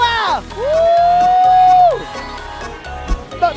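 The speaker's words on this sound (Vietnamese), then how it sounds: "Một tràng vỗ tay nữa được không ạ?" Crowd cheering and whooping at an esports tournament final, with a long sustained shout, loud and energetic, mixed with music and lively background noise.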